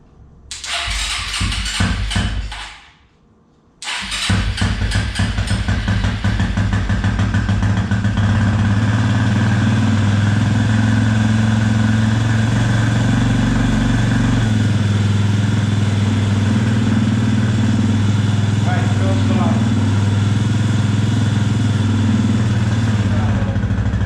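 A 2004 Suzuki LTZ250 ATV engine cranks and catches, cuts out briefly, then restarts and settles into a steady, loud, close idle that runs on without a break.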